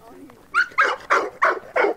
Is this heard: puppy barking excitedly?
yes